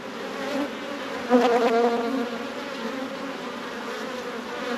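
Honeybees hum around an open home hive during a weekly inspection, a steady close buzzing drone with a brief louder swell as a bee passes near.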